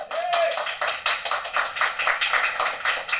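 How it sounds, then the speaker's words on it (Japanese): A crowd of about 13,000 concertgoers applauding, a broad, steady wash of clapping that swells in waves. A single voice rises briefly at the start. "1万3000人の拍手。"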